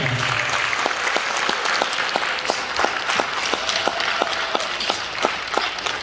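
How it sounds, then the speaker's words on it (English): An NJROTC award ceremony audience applauds the cadets, a sustained crowd clapping with several sharp, distinct claps standing out near the microphone over about six seconds. "A round of applause."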